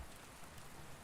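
Heavy rain pounds down in a dense, continuous hiss for about a second, loud and steady with no voices.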